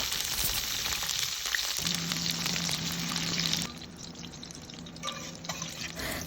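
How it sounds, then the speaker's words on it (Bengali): Chopped capsicum fries lightly in hot oil in a pan with a strong, steady sizzle. The sizzle drops noticeably in loudness partway through and then carries on softer, close and continuous. "এবার প্যানে তেল গরম করে ক্যাপসিকামগুলোকে একটু হালকা করে ভেজে নেব।"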